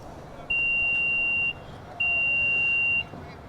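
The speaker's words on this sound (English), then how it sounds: "hold that button down and listen for the beeps" A 2025 Nissan Murano Platinum power tailgate gives two long, clear electronic beeps about a second each with a short gap between them while its opening height is being set, against quiet background.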